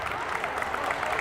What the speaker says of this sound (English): Round of applause as she gets up to her feet.